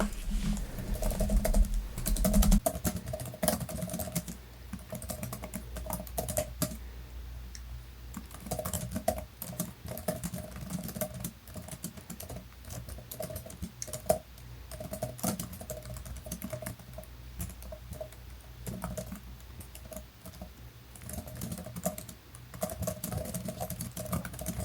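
Fingers tap quickly on a OneXPlayer Super V detachable keyboard, a steady patter of light plastic key clicks with brief pauses, close and quiet, lasting over twenty seconds.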